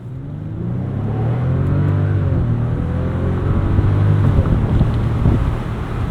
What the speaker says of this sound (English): That W12 really is churning hard when you mash that gas.